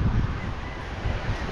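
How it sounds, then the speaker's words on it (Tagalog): Very strong wind over flat open ground, heard as loud, constant rushing and rumbling against the microphone, close and unbroken, with no talking. "kaso nga lang sobrang lakas ng hangin"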